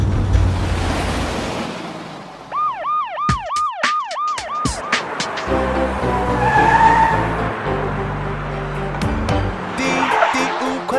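An out-of-control cartoon race car skids loudly, with swooping siren-like wails, engine rumble and crashing hits over busy music, in a children's animated song about speeding vehicles.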